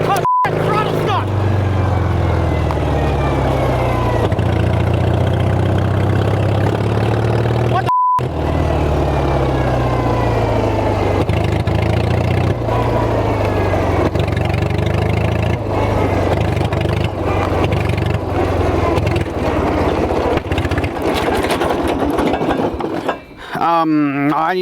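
A small engine on a homemade vehicle runs continuously with a stuck throttle, droning loudly at high revs with wavering pitch, and a voice talks over it.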